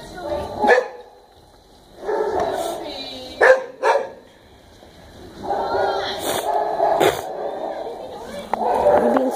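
A dog indoors gives several loud barks and yips in separate bursts, with whining and short pauses between them. Background speech can be heard now and then.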